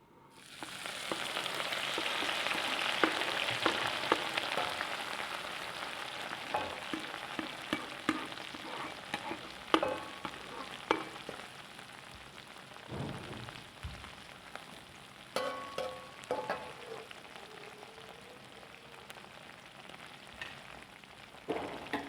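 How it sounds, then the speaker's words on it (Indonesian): Spring onions and celery sizzle steadily in a hot pan for soto padang, a dense crackling hiss with scattered sharper pops and occasional scraping stirs, close and continuous with no talking. "sekarang kita akan menumis daun bawang dan seledrinya"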